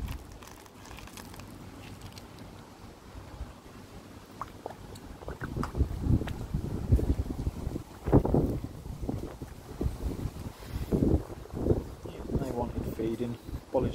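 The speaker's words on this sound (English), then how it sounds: "Apologies if you can hear the wind, it's a lot breezier today than it was when I started the roof project." Breezy wind blowing outdoors by a koi pond, buffeting the microphone in uneven low rumbling gusts that grow stronger partway through, with a person talking over it.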